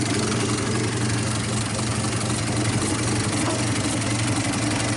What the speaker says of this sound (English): we got her idle down. It's probably running, I don't know, 400 RPM like that.